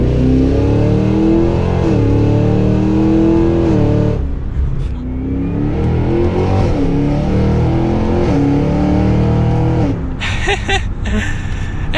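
A 2023 Cadillac Escalade V AWD accelerates hard, its loud engine climbing steadily in pitch through the gears with brief shift breaks, then a sharp burst of revving near the end, heard from inside the cabin.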